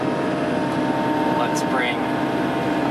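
An excavator engine drones loud and steady while the machine digs a hole to bury stumps, a continuous close rumble with a brief rising whine partway through.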